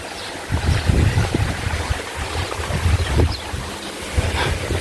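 Outdoor pool vents of a villa's private swimming pool run with a steady rushing, bubbling water noise, mixed with gusty wind buffeting the microphone.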